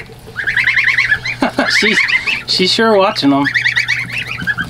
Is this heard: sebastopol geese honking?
yes